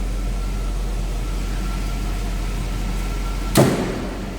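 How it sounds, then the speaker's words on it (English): A single solid thump of a 1936 Chevrolet Master two-door sedan street rod's door shutting, standing out sharply against a steady low idle hum. "the door closes very nice."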